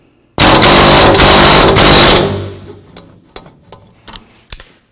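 A hammer drives the front axle through the hub of a 2003-2009 Toyota 4Runner, starting with a loud sustained burst of metallic clatter, then a string of sharp separate metal strikes that fade off.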